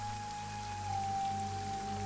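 Steady rain falls in a video game scene, a soft continuous hiss of drops with a faint low hum beneath, no voices.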